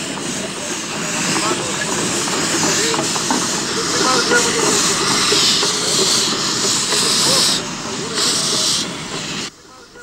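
A steam locomotive on a Spanish 750mm narrow gauge railway hisses loudly and continuously, with rhythmic chuffing and rail rumble close by, before cutting off abruptly near the end.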